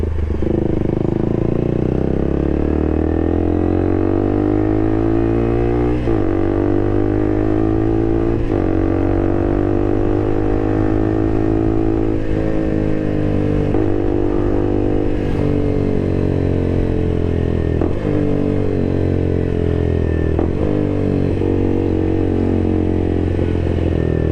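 A KTM RC200 motorcycle with an SC Project aftermarket exhaust idles loudly nearby, its rough exhaust note rising and falling through repeated revs, the pitch climbing and dropping again and again.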